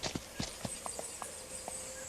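Horse hooves clip-clop in the game Sound of Horses, a run of about eight light, evenly spaced steps that sound fairly close and fairly quiet, with no speech.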